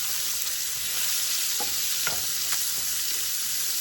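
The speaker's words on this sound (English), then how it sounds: "Just going to saute those around a little bit" Chopped onion and celery sauté in pan grease with a constant close sizzle, while a utensil pushes them around in a few brief scraping strokes partway through.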